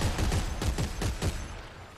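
Rapid bursts of gunfire in the video game Dead Space 3, a quick string of loud close shots over about a second and a half that then fades out.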